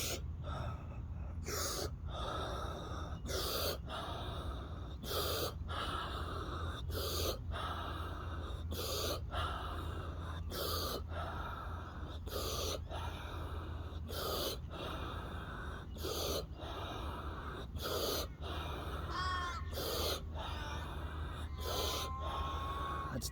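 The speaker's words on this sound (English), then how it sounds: "I'll do my rounds of breath work as I get in." Repeated sharp gasping inhalations and forceful exhales in rounds of breath work while wading into a cold river, a steady rhythm of loud breaths over constant rushing water.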